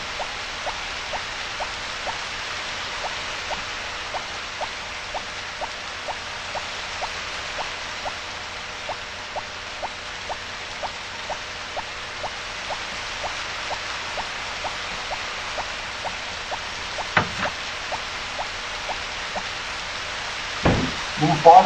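Rain falling in the farming video game Harvest Moon: Back to Nature, a soft, even hiss with faint regular ticks running throughout, broken by a couple of brief louder knocks near the end.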